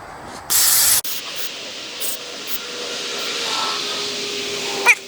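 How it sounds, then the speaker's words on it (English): A short, forceful hiss of spray cleaner blasted onto a part of an old Homelite 350 chainsaw, a single loud burst of about half a second. Faint clinks and handling noises follow in a quiet room. "we're just going to give it a quick cleaning. Just some spray."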